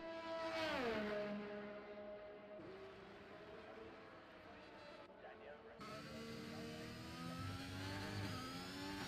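Formula 1 car engines in the F1 2021 video game at the Mexican Grand Prix scream and shift through gears, rising and falling in pitch, with a race commentator talking over them.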